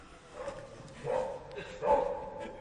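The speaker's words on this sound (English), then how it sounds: "the dog was barking every night, very annoyingly" A dog in a radio drama barks in a few short, moderately close bursts, each a little louder, over a quiet background.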